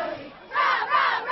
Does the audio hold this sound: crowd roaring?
yes